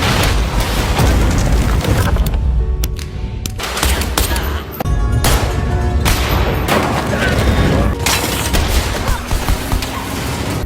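Gunfire in the 2023 film Jigen Daisuke comes from a woman shooting a pistol hidden in a prosthetic leg. Loud, dense bursts of shots and booms run almost continuously, and a voice is partly heard under them.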